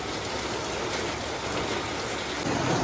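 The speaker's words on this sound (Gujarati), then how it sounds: "આવો વરસાદ હજી અહીંયા બહુ જોયો જ નથી આજ ચાલુ થયો છે" Heavy rain roars steadily and loudly, a dense continuous hiss that grows slightly stronger toward the end.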